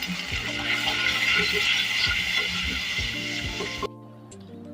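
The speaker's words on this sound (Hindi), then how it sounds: "एक कप पानी के साथ मैंने मसाले की भुनाई कर रही हूँ।" Onions and masala frying with a cup of water in a pan for besan khandvi, a loud continuous sizzle with occasional stirring clinks, close by, tapering off near the end.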